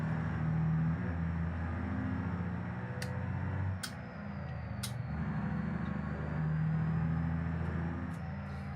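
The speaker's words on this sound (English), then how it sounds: "This truck sounds so good." An inline-six truck engine drones steadily while driving, a continuous low rumble with a faint whine riding above it and a few brief high clicks.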